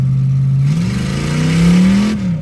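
A car engine revs steadily and loud, pitch holding then climbing as the transmission slips in third gear, a single continuous drone with no voices.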